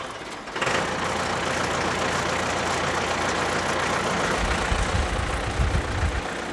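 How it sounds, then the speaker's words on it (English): A Bandit 200XP wood chipper's engine cranks and catches, then settles into a loud, steady low-RPM idle with a deep rumble that swells near the end. "we're gonna start the machine. It's gonna read and level out at a low RPM for now."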